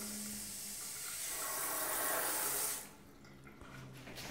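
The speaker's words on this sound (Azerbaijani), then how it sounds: "Kimsə açıq qoyub gedib artıq gigiyenik duşu." Water running from a hygienic shower left open in a four-storey house, a steady hiss that swells and then drops to a quieter flow.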